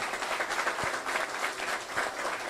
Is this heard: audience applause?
yes